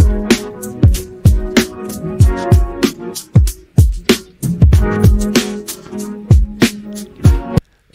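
Drum stem of an AI-generated song with a guitar part added back in: a steady pounding beat of sharp kicks and snares under sustained guitar tones holding a repeating pitch, dense and continuous with no talk.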